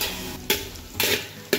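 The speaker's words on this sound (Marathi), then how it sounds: "कांदाही छान तळत चालला आहे" Chopped onion frying in a pan for spiced rice, a steady sizzle broken by three sharp stirring scrapes, close and fairly loud, with no voices.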